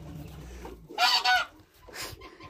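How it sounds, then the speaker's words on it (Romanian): Chickens and pigeons feeding outdoors, with a couple of loud honking squawks from the fowl close by against a quiet yard background. "Mănâncă acolo găinile și porumbei."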